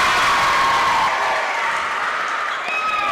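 Crowd noise in the stands at a high school JV/varsity basketball game in Ainsworth, with steady applause and cheering filling the gym throughout at a loud, even level.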